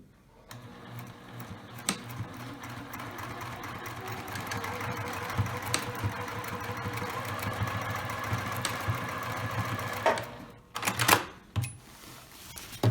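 A sewing machine stitches a lined tote bag, a close steady whirring drone that runs for several seconds and then breaks into short stop-start bursts at the end.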